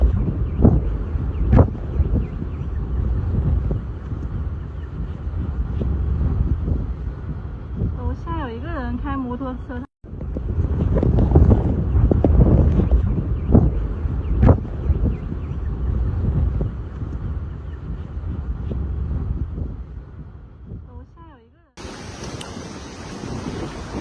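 Strong super typhoon wind gusts batter Taiwan, a loud continuous roar of wind and surging water with buffeting microphone rumble, swelling and easing over time, with a brief break partway through and a short different segment at the end.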